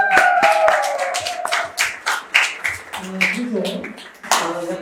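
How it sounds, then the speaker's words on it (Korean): At a university lecture event, an audience gives a round of applause. Separate, distinct claps ring out unevenly while people talk over them. "박수 한번 주시죠"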